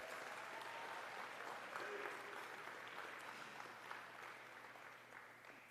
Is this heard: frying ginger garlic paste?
no